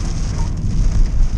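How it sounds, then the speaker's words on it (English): Rain falls on a moving 2020 Nissan Almera with a 1.0-litre engine, a close, steady patter and hiss over the low road rumble inside the car, with no voices. "I apologize for the rain"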